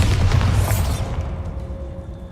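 Bombarda blasting spell explosion in Hogwarts Legacy: a loud, deep booming burst that rumbles heavily for about a second, then fades into a lingering crackling tail, with no voices.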